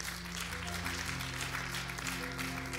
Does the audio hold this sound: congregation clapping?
yes